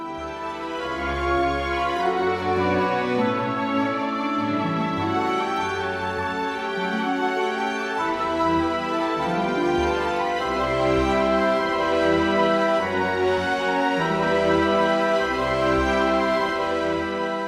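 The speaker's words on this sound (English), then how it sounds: "Muse Sounds, which is an orchestral plugin we've spent 2 years developing." An orchestral score plays back through the Muse Sounds plugin in MuseScore 4, with full sustained strings and brass over a deep, rhythmic low end, steady and loud, with no voices.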